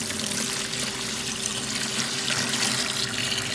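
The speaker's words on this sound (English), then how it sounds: "I'm just gonna pour my water in." Water pouring steadily into a white food grade bucket, a continuous splashing, gurgling flow heard close up with no talking.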